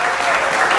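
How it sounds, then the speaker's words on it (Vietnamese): Audience at a concert of the Orange County Vietnamese community breaks into steady, dense clapping, loud and continuous through the whole short moment. "Vỗ tay lớn cho đại gia đình quận Cam mình đêm nay."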